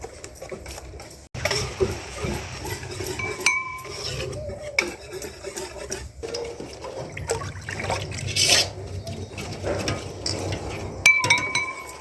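Flour being mixed with water in a large batch for traditional Persian samanu, giving steady clinks and scrapes of utensils against a pot with faint wet trickling, close and continuous.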